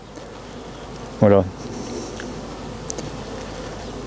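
Honey bees buzz around a hive in late winter, awaiting the goat willow bloom. A low, steady hum runs throughout, with a brief close, louder passing buzz and a short spoken word.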